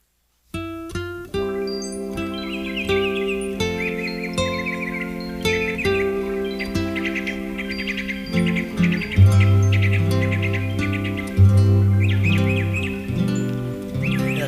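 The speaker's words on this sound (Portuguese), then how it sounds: "Até os passarinhos estão alegres" Small birds chirp and sing in quick, bright tweets scattered over a steady tonal background, fairly loud and continuous, with no talking.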